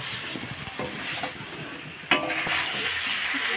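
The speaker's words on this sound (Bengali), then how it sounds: "নিয়ে এবার আলুটা দিয়ে দেব, আলুটা দিলাম, দিয়ে আর একটু কষিয়ে নেব।" Diced potatoes stir-fried in a hot pan at home, a steady sizzle with a spatula scraping and knocking against the metal, one sharp clack midway, no talking over it.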